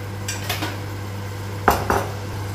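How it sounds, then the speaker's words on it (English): A pressure cooker lid is lifted and set down after the pressure is released while cooking hyacinth bean curry, giving two short close metallic clanks after faint scrapes, over a low steady hum. "Take out the lid"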